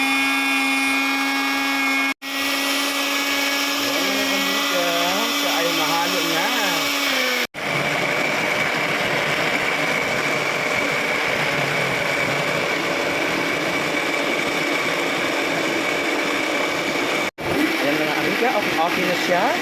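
A kitchen blender whirs loudly and steadily as it mixes a papaya fruit shake, the motor pitch shifting as the contents churn, with brief cuts in the running sound.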